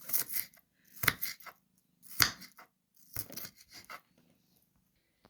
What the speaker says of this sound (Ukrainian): Цибульку нарізуватиме дрібними шматочками.